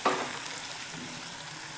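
Ground masala fries with onion and tomato in oil for a homemade Maggi dish, a close steady sizzle broken by a few stirring scrapes, with no talking.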